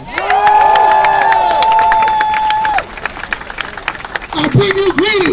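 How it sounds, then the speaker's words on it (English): A crowd at an outdoor Juneteenth march cheers and claps loudly, with sustained shouted cheers and whoops over steady applause, then more rising and falling voices near the end. "Give him a round of applause."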